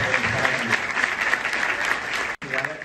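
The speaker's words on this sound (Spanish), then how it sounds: "Así un aplauso para ustedes." A crowd applauds students at a tourism event, the steady clapping filling the space with a brief break near the end.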